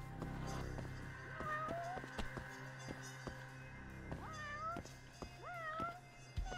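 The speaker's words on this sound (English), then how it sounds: "There's still a cat to my left." A white cat in a video game meows repeatedly, several rising-and-falling cries spaced through the stretch over steady background game noise with clicks.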